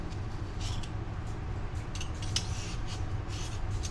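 A potato peeler scrapes along the skin of a papaya over a plastic bowl, close and quiet, with short repeated rasping strokes over a steady background hum.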